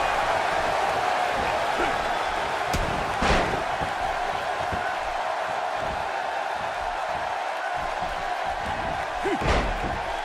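A wrestling supershow crowd keeps up a dense, steady roar of cheering throughout, with a few sharp impacts from the ring breaking through and a commentator talking over the noise.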